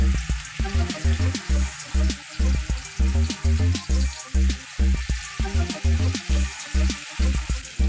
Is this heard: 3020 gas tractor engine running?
no